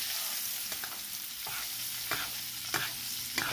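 Salmon fillet pan-searing skin-side in sizzling butter flavored with rosemary, a steady crackling fry with spoon-scrape basting strokes and a few sharp pops, close and without talk.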